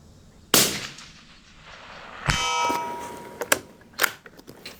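Loud sharp bangs of 17 WSM rifle fire followed by a ringing metallic clang of bullets hitting a steel target, then a few more distant impacts and pings outdoors.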